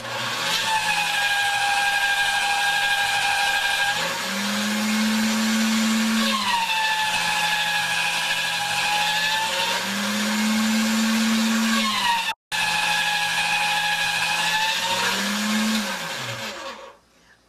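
A motorized clay machine runs steadily as polymer clay is fed through its rollers, a loud, continuous whirring hum with a pitch that rises and falls, briefly cutting out once, then winding down at the end.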